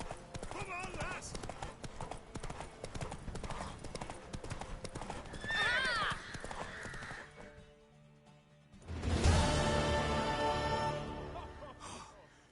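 Horses gallop in a race in The Witcher III: Wild Hunt, a rapid clip-clop of hooves with whinnies and snorts. Voices shout over the drumming, then a loud crowd-like burst swells near the end.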